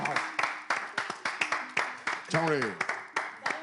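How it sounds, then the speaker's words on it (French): Scattered clapping breaks out as rapid, uneven hand claps with people talking and exclaiming over them. "On applaudit."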